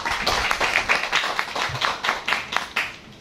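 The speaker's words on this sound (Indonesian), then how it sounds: "kita kasih aplaus untuk Pak Cahyo" An audience applauds speaker Cahyo Prayogo at a talk on coffee-pine agroforestry, with steady clapping from a modest crowd sustained throughout at moderate loudness.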